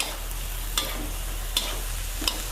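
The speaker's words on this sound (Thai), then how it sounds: "เนี่ยค่ะผัดคลุกเคล้าให้ผักโดน ความร้อนนะคะสักเล็กน้อยจ้า" Mixed vegetables and cabbage being stir-fried in a pan, with a steady soft sizzle and three brief scraping strokes of the utensil spaced evenly through the short stretch.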